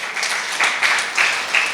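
Congregation clapping during a Tamil Sunday church service, a brief steady patter of many hands with a few swells, fairly close and filling the room, no voices over it.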